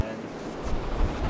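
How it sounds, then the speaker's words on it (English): Gusty wind buffets the microphone on a beach as a storm rolls in, a steady low rumble with brief louder blasts across the short stretch. "It's so windy."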